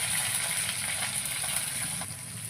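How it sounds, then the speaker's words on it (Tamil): Onions frying in hot oil in a home kitchen, for a drumstick and radish gravy, produce a soft, even sizzle with a faint hiss throughout and no voices. "இப்போ எண்ணெயில் வெங்காயம் போட்டுக்கலாம்"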